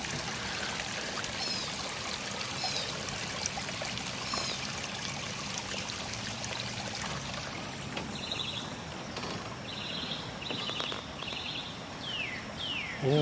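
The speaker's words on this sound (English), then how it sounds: "Check out another little cascade waterfall." A small cascade in a park garden trickles and splashes in a soft, steady patter, fairly quiet and continuous, with faint birdsong chirping over it.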